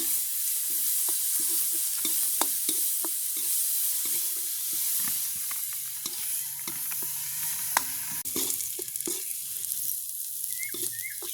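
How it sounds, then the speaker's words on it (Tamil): Onion and chili sautéing for rava vada in a village kitchen, a steady broad sizzle with frequent sharp scrapes and taps of a spoon stirring the pan, close and continuous throughout. "வதங்கி கொண்டிருக்கிறது ஒரு கொஞ்சம் நேரம் வதங்க வேணும்"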